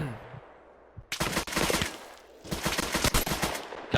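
MG42 machine gun in the Hell Let Loose video game fires in rapid, dense bursts at close range, with a brief pause between two loud volleys.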